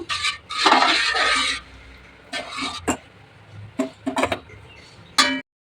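Ingredients stirred and mixed in a pot, with irregular bursts of metallic scraping and clattering of a spoon against the pot, separated by short quiet gaps.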